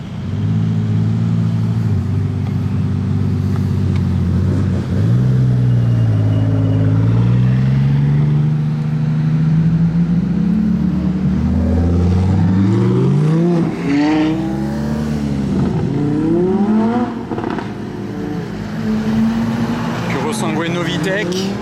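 A Pagani Utopia supercar revs up and sweeps past with rising and falling engine tones, loud and close, while people talk over the roar.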